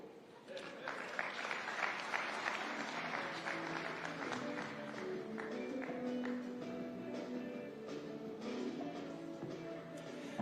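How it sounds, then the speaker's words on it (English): A crowd applauds at a private sector alliance anniversary gathering, a fairly faint, sustained wash of clapping with a low voice talking beneath it throughout. "Another round of applause for Governor Nyong'o"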